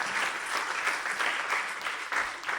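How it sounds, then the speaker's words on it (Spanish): Congregation applauding at an Easter church service, a dense, steady wash of many hands clapping together, fairly close and continuous without a pause. "Dale un aplauso a Él en esta mañana."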